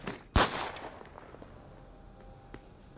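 An explosion arrow goes off in The Walking Dead: Saints and Sinners, a single sharp, loud blast with a short rumbling decay, followed by faint scattered knocks.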